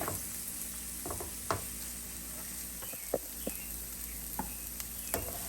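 Onion frying with chicken liver over medium heat, a steady soft sizzle broken by occasional sharp scrapes and taps of stirring, close and fairly quiet.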